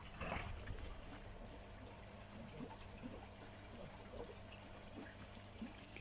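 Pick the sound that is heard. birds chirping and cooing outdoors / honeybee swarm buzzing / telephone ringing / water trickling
water trickling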